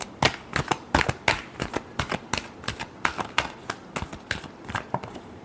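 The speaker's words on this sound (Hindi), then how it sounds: "Last shuffle." Tarot cards being shuffled in quick, uneven bursts of crisp riffling slaps, close and fairly soft, with no talking.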